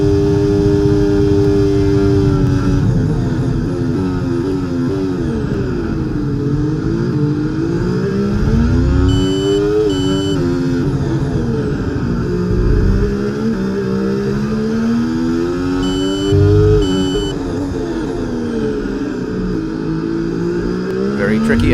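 An F1 car engine in the EA Sports F1 game at Circuit of the Americas, screaming loud and near as it accelerates out of turn 15, its pitch sweeping up and down through the gears while a voice talks over it.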